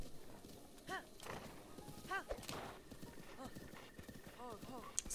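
Horse hooves clip-clop in a steady galloping rhythm in the video game The Legend of Zelda: Breath of the Wild, with a couple of whinnies, while someone talks over them in German.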